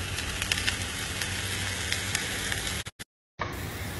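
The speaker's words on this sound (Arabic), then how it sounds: "على طول نحط الدفع الأولى، نبدأ نقلب بهذه الطريقة لحد ما يتحمر معنا." Okra frying in oil while being stirred: a steady, dense sizzle with faint scraping, close and loud, briefly cutting out near the end before resuming.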